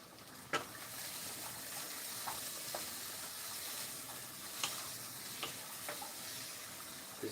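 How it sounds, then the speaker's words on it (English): Curry boiling away in a pot on high heat, a soft steady bubbling hiss with occasional sharp pops and clicks, fairly faint and with no talk. "Look at this, this is boiling away."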